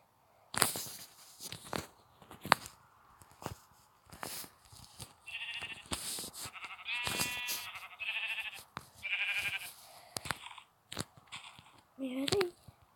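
Several short bleating calls from sheep in Minecraft, moderately loud, scattered among clicks and game sound effects, with a brief higher tone near the end.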